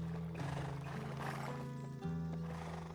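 A horse neighs at a stable in the Black Desert video game, with a long, wavering whinny over soft hoof clops and a quiet, tonal background. No one speaks.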